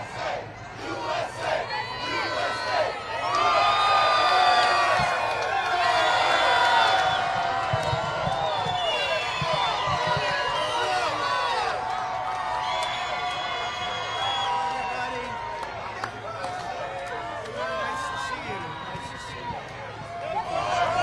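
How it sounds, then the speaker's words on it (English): A large New York City rally crowd roars and chants "USA" as President Trump departs, a dense, sustained wall of cheering and shouting voices that stays loud for the whole stretch and swells near the start. "Overwhelming crowd response with USA as President Trump makes his exit."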